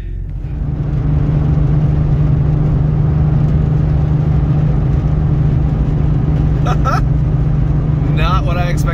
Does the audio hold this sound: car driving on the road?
yes